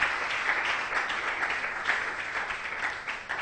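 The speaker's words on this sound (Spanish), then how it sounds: "¿Cuánto dan un fuerte aplauso a Dios en esta mañana por eso?" Steady church congregation applause during a morning sermon fills the room, dense and continuous clapping from many hands, moderately loud with no voices over it.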